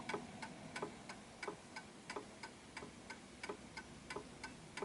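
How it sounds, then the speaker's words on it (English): An antique Westminster chime clock ticks steadily and softly on its own, a crisp, even tick roughly three times a second. "we know that the clock is ticking nicely."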